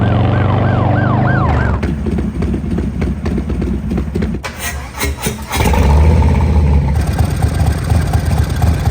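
Police car siren wailing in New York City, a loud rising-and-falling whoop at first, then blurring into dense traffic and engine noise with further siren tones, close and continuous.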